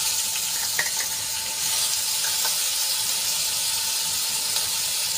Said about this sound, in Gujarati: મરચાં અને લસણની પેસ્ટને આપણે થોડીક સાંતળી લઈશું.